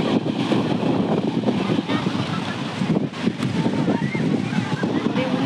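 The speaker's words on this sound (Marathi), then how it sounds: "काय भारी पाणी उडतंय" Seawater splashing up along a rocky Mumbai shoreline, a steady loud rush of surf and spray mixed with wind buffeting the microphone, continuous throughout with people talking nearby.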